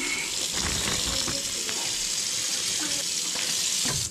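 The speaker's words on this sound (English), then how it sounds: "we're gonna give our fillets one quick rinse again, just to clean them off here" Running water from a tap splashes steadily over whiting fillets being rinsed clean at a beach cooking spot on the Alabama Gulf Coast, a continuous close hiss with a few small splashes and no talk.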